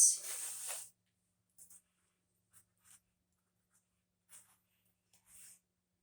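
A pen writes a small label by hand while seeds are being planted. It opens with a loud scratchy stroke, then comes a quiet pause and several short, faint scribbles spread apart. No one speaks.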